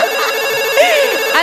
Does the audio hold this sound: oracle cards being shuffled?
no